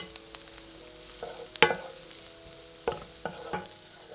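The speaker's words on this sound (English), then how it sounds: "Stir it together and cook for a further minute." Onion with minced garlic stirred in a pan, soft and translucent, cooking gently: a low steady sizzle with a few sharp spoon scrapes and knocks against the pan.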